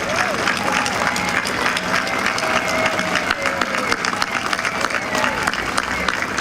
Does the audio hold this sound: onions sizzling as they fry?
no